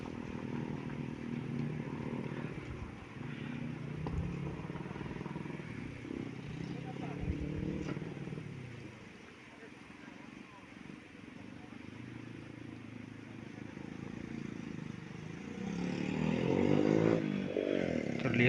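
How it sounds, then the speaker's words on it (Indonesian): Motorcycles and cars, including a Toyota Avanza, pass along the road at Batu Jomba, heard from above as a rolling engine and tyre rumble that swells as vehicles approach and grows loudest near the end. "Terlihat sepeda motor atau mobil sedang melintas di Batu Jomba ini ya."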